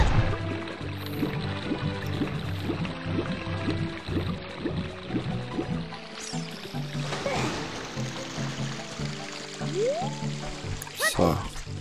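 River current water in the Zelda Ocarina of Time video game, a continuous rushing, pouring flow with splashy trickles, steady and fairly close, with game music tones running underneath.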